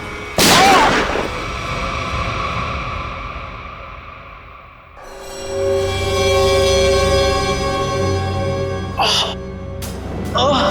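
A single sharp gunshot bursts out early in a TV crime drama scene, followed by tense music and raised voices overlapping.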